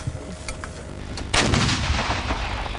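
Military cannon with a digital fire control system fires one loud, booming shot that sits over a steady background rumble and then leaves a long rolling decay, with no talking.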